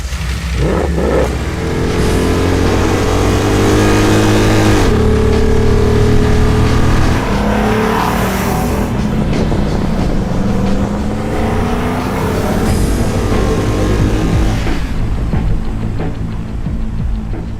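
A Toyota Hilux pickup swapped with a 6.2-litre V8 from a C63 AMG revs hard and loud, several rising blips and sustained roars with crackling drop-offs, close by and with no talking.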